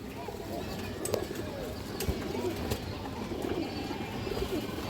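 Pigeons of an old breed line at a pigeon farm coo softly in low, repeated murmurs, with faint chirps and scattered small knocks in the background.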